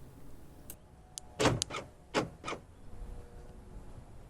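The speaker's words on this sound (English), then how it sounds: "Lock the car." The central locking on a 1999–2007 Skoda Fabia Mk1 locks the doors, a quick series of sharp mechanical clunks and clicks from the door actuators, close up, with no talk.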